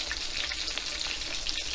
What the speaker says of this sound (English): I'm just finishing up frying the pork tenderloin